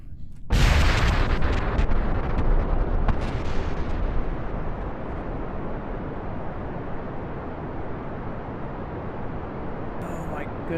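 Rocket engine in Kerbal Space Program igniting with a sudden loud roar, then a continuous dense rumbling thrust that eases slightly and holds steady throughout.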